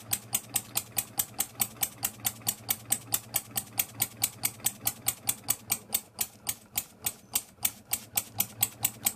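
A small model steam engine runs on compressed air, chuffing in a fast, even rhythm of sharp exhaust puffs, roughly four a second, loud and close with no talk.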